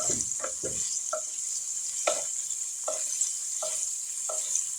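Hamburger meat sizzling steadily in a pan, a bright constant hiss of frying grease with a series of soft scraping and stirring knocks as the pan is worked, close and alone without talk.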